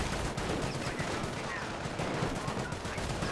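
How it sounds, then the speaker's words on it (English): An MG42 machine gun in the World War II strategy game Company of Heroes fires sustained rapid bursts, a dense continuous rattle of gunfire filling the whole stretch amid battlefield noise. "MG42 firing away."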